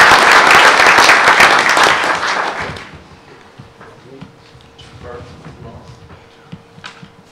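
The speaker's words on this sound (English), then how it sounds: "let us reward and recognize them with a round of applause" Audience applause at a school board meeting, loud, dense clapping for about three seconds that then fades out, followed by low room murmur and a few scattered sounds.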